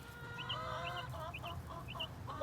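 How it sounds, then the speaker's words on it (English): Several chickens, black-and-white and brown hens, cluck in short rising calls repeated every half second or so over steady farmyard background noise, close and moderately loud. "So the black and white chicken is Pepper."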